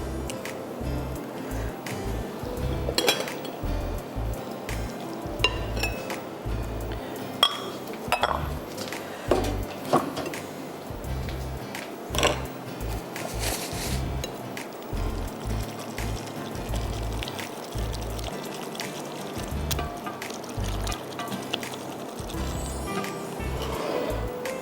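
A cold rice mixture is stirred into yogurt in a bowl, a spoon scraping and clinking against the dish in an uneven rhythm, with soft wet mixing sounds in a quiet kitchen.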